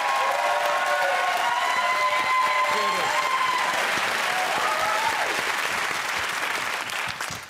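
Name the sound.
studio audience applause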